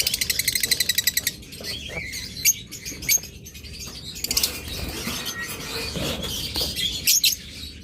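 A breeding pair of turquoise opaline budgerigars inside a box give rapid, rhythmic high chirps at first, then scattered calls, scratching and fluttering against a steady background hum.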